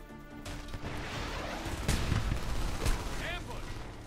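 A sudden ambush in the Homefront shooter: dense rolling gunfire with sharp impacts and a heavy RPG-style blast near the middle and another just after, fairly loud, with voices shouting over the chaos.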